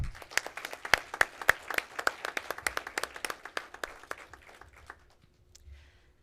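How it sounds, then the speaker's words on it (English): Audience applause for agricultural sponsors at a foundation donor recognition and awards event, made up of many distinct sharp claps in an uneven patter that thins out and fades after about five seconds, with no talk over it. "Let's give them a big round of applause"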